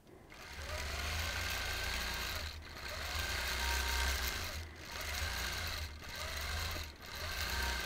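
A sewing machine quilting stitches runs at full speed in steady rhythmic bursts, pausing briefly between runs, with a close mechanical chatter and no talking.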